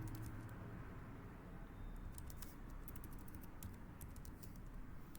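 Quick bursts of key taps on a computer keyboard, close and fairly soft, over a steady low background hum.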